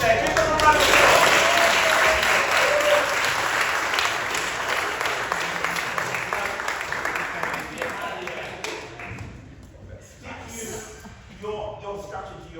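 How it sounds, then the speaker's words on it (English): A round of applause for participants in a performance workshop, dense clapping at first that gradually thins and fades, with voices talking as it dies away. "Give them a round of applause."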